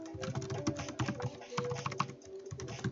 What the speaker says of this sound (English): Forgive me if I'm just typing for a second.